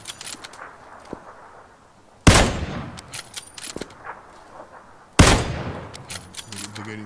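Gunfire in a shooter video game during a Kar98 rifle squad fight: two loud, sharp rifle blasts a few seconds apart, each trailing off in a long echo, with fainter distant shots and a player talking between them.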